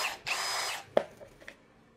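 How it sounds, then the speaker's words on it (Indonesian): A Dongcheng DCJZ03-13EM hammer drill in drilling mode bores into a 3 to 4 mm thick steel U-channel, a short loud whir that stops abruptly, followed by a few faint clicks and knocks. "ini kanal U, ya, ini ketebalan di 3 mili 4 mili, kita akan coba bor"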